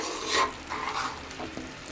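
A spoon stirs cubed vegetables into okra cooking in a pan for bhindi do pyaza, giving a close scraping stir with a soft sizzle underneath, in short strokes over about two seconds.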